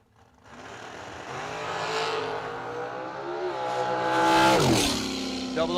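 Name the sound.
dragster racing down the drag strip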